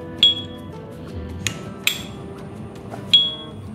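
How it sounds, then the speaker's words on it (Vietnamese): An S.T. Dupont luxury lighter's lid flicking open, giving a few sharp, bright metallic clings that ring briefly, spaced irregularly over a low background hum. "Khi mà nghe những cái âm thanh này là chúng ta sẽ biết ngay là đây là tiếng phát ra từ cái chiếc bật lửa"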